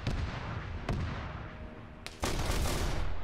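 Heavy bolter fire in Arma 3, a dense roaring barrage of booming automatic shots and blasts, loud and continuous, with a sharp heavier impact near the end and no voices.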